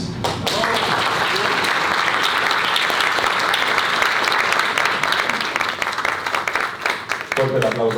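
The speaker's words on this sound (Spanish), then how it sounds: "Fuerte el aplauso para Ricardo Escobar por su charla, su conferencia." A conference audience at an international coaching and mentoring congress in Mexico gives a speaker loud, sustained applause. Dense clapping fills the room with a steady roar from start to finish, and a few voices cheer beneath it.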